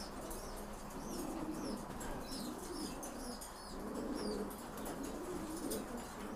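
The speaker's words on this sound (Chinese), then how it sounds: "他在那里咕咕的叫。" A breeding pigeon coos in repeated low, rolling phrases close by, with smaller birds chirping and some wing rustling around it in a steady, quiet ambience.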